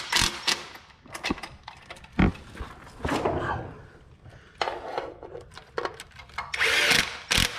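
A power tool runs in short, irregular bursts while tightening the oil pan bolts on a Honda Element, with whirring and clicking, close by and interrupted by pauses and clanks of handling.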